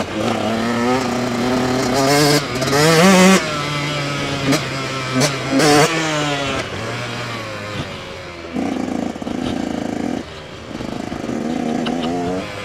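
Motorcycle engine revving hard in sharp, repeated bursts, rising and falling between throttle blips, close and loud, with no talk over it.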